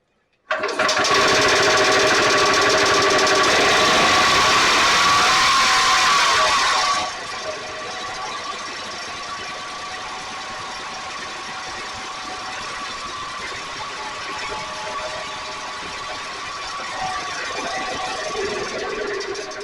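An EZ GO golf cart engine running lean after a carburetor adjustment: a steady, loud mechanical hum and whine that drops to a lower, quieter running note partway through, continuing evenly without talk.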